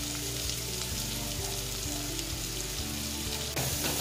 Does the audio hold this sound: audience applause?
no